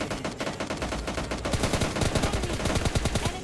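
Rapid automatic gunfire in the mobile battle royale game PUBG Lite, dense bursts of shots rattling continuously, growing sharper and more distinctly spaced in the second half.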